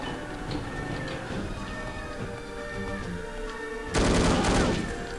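Gunfire in the video game No One Lives Forever crackles in a burst near the end, loud and close, over a busy background of music and effects.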